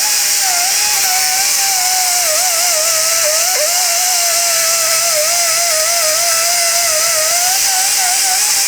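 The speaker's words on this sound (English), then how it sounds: "very carefully use a gentle sanding pad and get rid of all the debris" Power sanding pad grinding corrosion off a front suspension part of a 2008-2010 Ford F-250 during upper ball joint replacement, a loud continuous high whine with a steady motor tone, close up and without talk.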